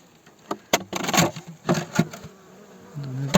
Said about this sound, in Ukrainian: От, бджола знизу сидить і клуб знизу.